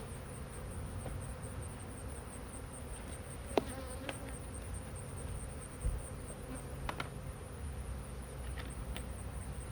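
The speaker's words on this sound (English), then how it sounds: "Jar full of very angry bees." A steady, dense buzzing of many angry honeybees shut in a Ball jar, muffled and enclosed, with a high whine and a few faint taps, continuous throughout.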